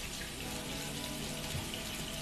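A quarter cup of water pours steadily into a pan of chicken karahi, a constant close splashing rush that runs evenly throughout with no voices.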